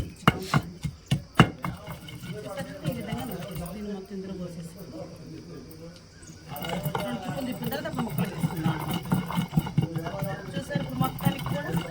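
Cucumber chutney ingredients pounded in a stone mortar, with a burst of sharp, rhythmic thuds at the start, then steadier softer pounding and grinding. A voice talks over much of it.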